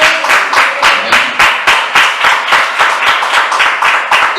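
Rhythmic clapping from a church congregation in unison, about a dozen sharp beats at a steady tempo, loud and close, with a faint musical tone underneath.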